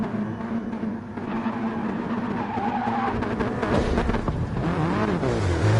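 A race car in GT Sport spins out during a Nations Cup race at Goodwood, its engine note wavering and tyres skidding under continuous race audio and steady engine drone.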